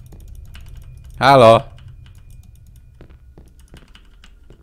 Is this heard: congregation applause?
no